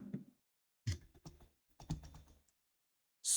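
Quick typing on a computer keyboard while entering a label into a spreadsheet, two short bursts of close, crisp key clicks separated by silence, ending on one sharper tap.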